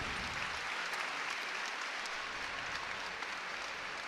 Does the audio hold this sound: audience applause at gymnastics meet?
yes